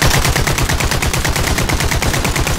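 Sustained automatic gunfire from the video game Caliber rattles in a fast, even rhythm, loud and close with no pauses.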